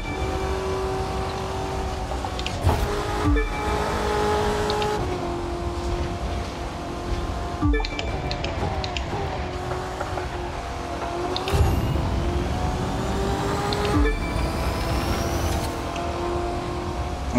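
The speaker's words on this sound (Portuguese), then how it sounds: "tô segurando o Corvette o máximo que dá na pista, mas tá complicado. Olha lá, jogando Nitro pra dar com tudo" A Corvette C8 races in The Crew 2 with nitro boost engaged: a loud, steady high-revving engine whine with sharp gear-shift drops and rising pitch sweeps, heard alone and up close.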